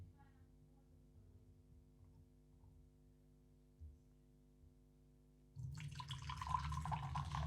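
Mengding Huang Cha yellow tea is poured from a vessel after a quiet stretch of low hum, the liquid splashing in as a steady close-up rushing stream over the last couple of seconds.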